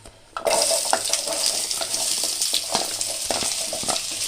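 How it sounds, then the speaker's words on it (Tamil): Onions sautéing in a pan for chana masala give a loud, steady sizzle that starts abruptly and continues, with occasional stirring clicks and scrapes and no talking. "இப்போ வெங்காயத்தை நல்லா வதக்கிக்கலாம்."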